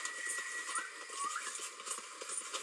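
Horse hooves clip-clop at a gallop in a video game, a steady rapid rhythm of fairly close hoofbeats running throughout without any voices.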